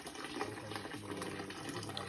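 Mineral spring water gushes steadily from a tap or spout at a spa resort, a continuous splashing flow heard up close with no voices.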